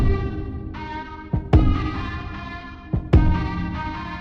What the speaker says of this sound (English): Then we have some kick samples and some tom samples.